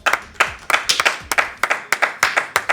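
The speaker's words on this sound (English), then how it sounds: "Can we get actual clapping for VR?" A few people clap hands in a sparse, uneven rhythm, about a dozen sharp claps in under three seconds, close and distinct, with no talking over them.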